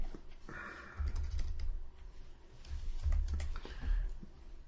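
Keys clatter on a computer keyboard as someone types a short word into a web form builder, a few quick soft bursts of taps fairly close, with no talking.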